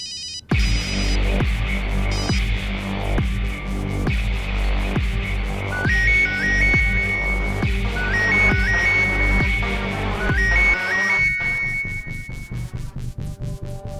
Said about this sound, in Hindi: लो, फोन आ गया।